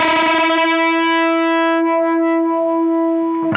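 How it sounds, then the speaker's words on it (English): Two heavily distorted electric guitar notes bent in unison, sustaining together with a faint wavering beat as the pitches converge; loud and close, no talking. "Let's do the good old unison bends."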